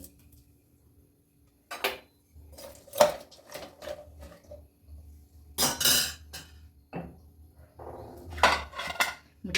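Steel pots and a pressure cooker lid clank and clink on a kitchen counter while bottle gourd is set to cook, sharp metallic knocks coming in scattered bursts with quiet gaps between them.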